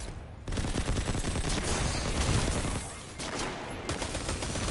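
Video game weapon fire rattles in dense, continuous bursts, loud and close, with a short pause partway through and no speech.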